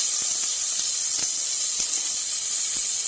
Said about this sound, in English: Now I am adding about 1 teaspoon of ginger garlic paste to this